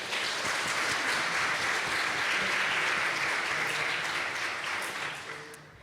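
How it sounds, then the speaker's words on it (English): A big round of applause after a presentation at a network festival launch, a dense, steady wash of clapping from a sizable audience that holds for several seconds and then fades. "I hope you heard that big round of applause there."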